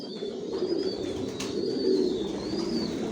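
Racing pigeons coo inside a breeding loft: soft, low, rolling coos that rise and fall over a steady murmur, with a few thin higher calls drifting through and no voices.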